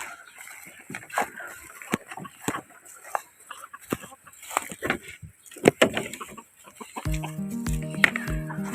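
Caged chickens clucking in a coop on a hot sunny day, with repeated close, uneven clucks and squawks, some scraping and knocking, and a steady rhythmic clatter near the end.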